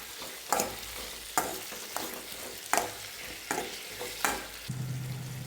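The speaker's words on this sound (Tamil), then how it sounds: "தக்காளி சேர்த்து நல்லா வதக்கிங்க" Tomatoes with a little ginger and green chillies sauté in a pan, a soft steady sizzle broken by sharp scraping spoon stirs roughly every second, closing on a steadier frying hiss.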